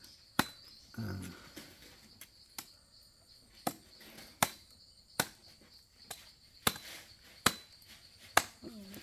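A machete strikes into a coconut over and over in a steady, uneven rhythm of sharp thwacks, about a dozen blows. Insects chirp faintly outdoors in the background.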